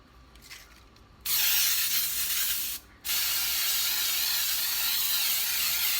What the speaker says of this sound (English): You're going to spray your pan.